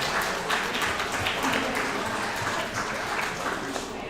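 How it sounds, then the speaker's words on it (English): A crowd at a high school softball game applauds steadily and fairly loudly, a dense wash of clapping with some voices mixed in, sustained throughout. "please clap it up for the seniors in general tonight"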